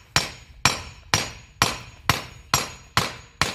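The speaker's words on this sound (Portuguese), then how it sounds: "Esse aqui é duro, vou ter que quebrar no martelo." Hammer blows striking hard compacted sandstone slab while searching for gold nuggets, eight sharp evenly spaced impacts about half a second apart, each ringing briefly before the next, close and loud with no talking.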